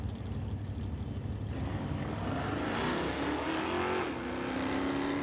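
A 1972 Chevelle drag race car idles loudly on the start line, its engine a continuous heavy rumble with a slowly rising, revving tone near the end.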